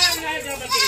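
Goats and their young kids at a goat farm let out a short, quavering bleat, loud and close, lasting under a second.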